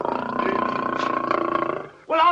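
A lion roars long and loud, a sustained growling rumble close up, followed by a brief louder cry at the end.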